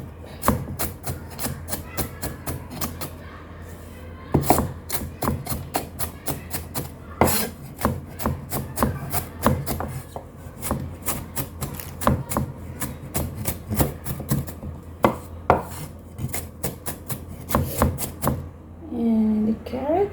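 A knife chopping vegetables on a board, rapid repeated crisp knocks in uneven bursts, close and clear, with a voice speaking at times between the cuts.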